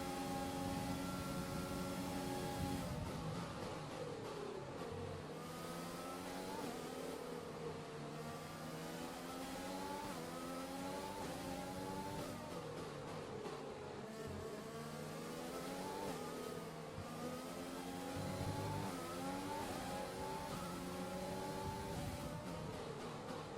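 Formula 1 car engine in F1 2020 racing on the Russia circuit, a loud continuous high-pitched whine with rising and falling revs through gear shifts, other cars passing close by.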